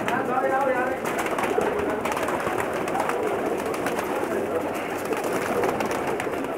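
A large flock of Teddy pigeons kept for sale in Jeddah, Saudi Arabia, coos and murmurs in a dense, continuous chorus. Someone talks over the birds throughout.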